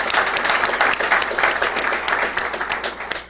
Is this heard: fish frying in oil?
no